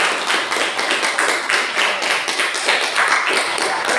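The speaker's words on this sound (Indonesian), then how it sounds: "tepuk tangan untuk siswa 8B" Students in an Indonesian 8B classroom clap steadily together, a dense, even patter of many hands that holds close and loud for about four seconds with no talking.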